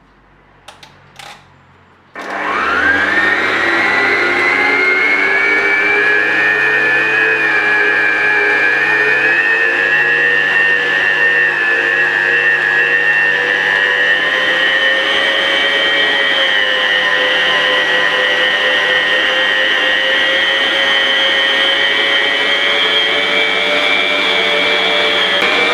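A stand mixer kneading brioche dough at second speed starts up after a few clicks and then runs as a loud, steady motor whine with a constant droning hum for a long stretch, with no talk.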